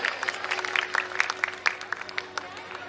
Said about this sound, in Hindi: सभी जोरदार शोरदार तालियों के साथ हमारी दीदी जी का स्वागत करेंगे।